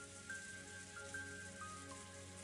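Steady rain falls outside a chapel in the Umineko visual novel game, a soft continuous hiss of drops on surfaces, with faint tonal music running beneath it and no voices.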